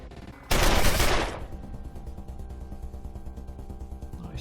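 Gunfire in the video game Wasteland 2, a loud burst of rapid shots that cracks out and fades, followed by a lower rattling tail.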